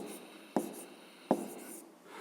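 Pen strokes on paper while working a fifth-grade maths exercise: two sharp taps a short interval apart over faint scratching, quiet and close, with no talk.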